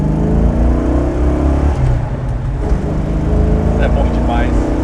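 An American Dodge Charger with a 7.2-litre V8 revs and accelerates, its deep engine roar loud and close with a pitch change as it shifts, while people talk inside the car.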